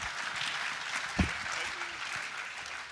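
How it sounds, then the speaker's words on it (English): An audience applauds in a steady wash of clapping, with voices mixed in underneath and one brief louder knock partway through. "It's really gratifying to hear you all applaud"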